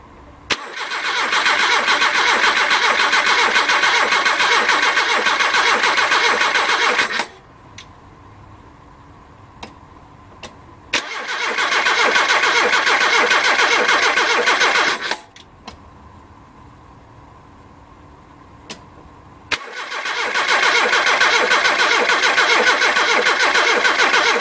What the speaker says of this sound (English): So I'll just crank it until some fresh fuel goes into that.